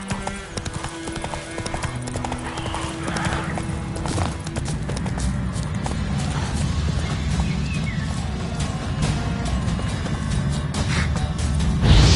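Horse hooves clip-clopping in a steady trotting rhythm, close and continuous, as a rider travels in Witcher 3, with game ambience and music underneath.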